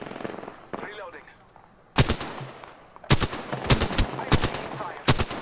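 Gunfire in the battle royale game Apex Legends: loud bursts of rapid automatic shots in several clusters after a quieter stretch, with faint voices underneath.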